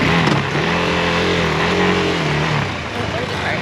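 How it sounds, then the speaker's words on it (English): A car passes close on a road in Taiwan, its engine rising in pitch and then falling away over a few seconds, loud against steady background noise, with voices over it. "There's a car coming that way."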